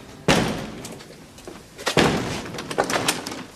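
Heavy banging against a door in a comedy scene, two loud hard impacts about a second and a half apart followed by smaller rattling knocks, close and forceful with no talk.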